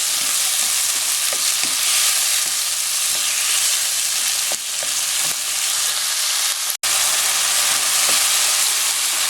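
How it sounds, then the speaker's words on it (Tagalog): Tomatoes fry loudly in a pan with onions, a constant dense sizzle with faint stirring scrapes and a brief dip near the end. "medyo lutuin lang natin itong kamatis"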